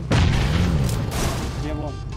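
A bomb explosion in the PUBG Mobile battle royale game booms loud and close, then rumbles on under faint voices.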